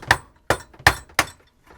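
Four sharp metallic knocks from a hammer striking a screwdriver to knock out the dishwasher plug on a garbage disposal, evenly spaced and close, with a ringing clink on each hit and no talking.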